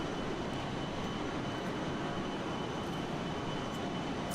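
The default engine sound set of a Fokker F28 airliner in a flight simulator drones as a steady, even roar with a constant broadband hum and no variation.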